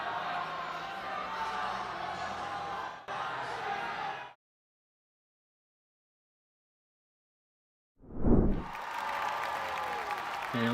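A crowd applauds and cheers at a Stanford versus Cal and Oklahoma NCAA men's gymnastics meet, a sustained arena roar that cuts to total silence midway, then returns with a sharp thump before the cheering resumes.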